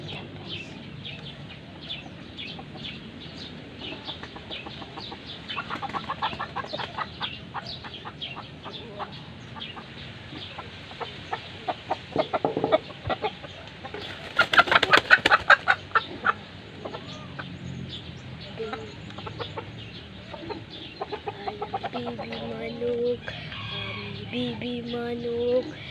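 Chickens cluck intermittently at moderate distance, with a louder flurry midway and a voice chanting briefly near the end.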